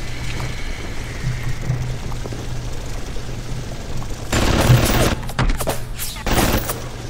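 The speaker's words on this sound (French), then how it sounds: "C'est quoi qui m'a tiré dessus? Une tourelle?" Turret gunfire in the BioShock video game, a burst of rapid shots and loud bangs in the latter half after a quieter hum of game ambience.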